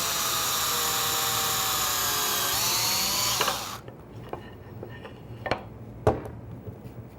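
An electric drill bores a pilot hole in wood for a screw joint, a loud steady high whine for several seconds that winds down and cuts off, followed by a few faint knocks and clicks.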